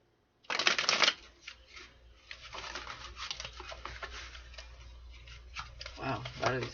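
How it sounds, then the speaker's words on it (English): Tarot cards are shuffled by hand in quick riffling bursts and soft slides, close and crisp, with a louder flurry at the start and another near the end, a quiet voice murmuring between. "I'm just going to shuffle some of these out."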